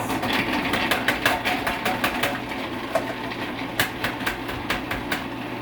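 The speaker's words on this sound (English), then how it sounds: "I will turn on the food processor, and I will process for 20 seconds." A food processor churns pastry dough in a kitchen with a steady low motor hum, overlaid by irregular sharp ticks and thumps as the dough knocks around the bowl.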